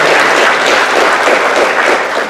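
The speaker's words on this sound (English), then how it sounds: "let's give him one more round of applause" An audience at a high school senior signing day applauds a speaker, Mr. Hill, with dense, loud, continuous clapping filling the hall for a couple of seconds.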